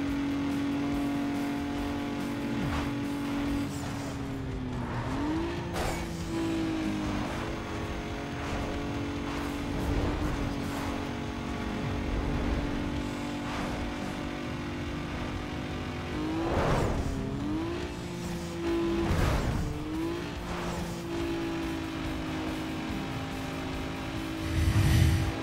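A car racing along a motorway in the video game Need for Speed Underground, engine droning steadily with several gear shifts and swells of other cars rushing past, sustained and close, no voices.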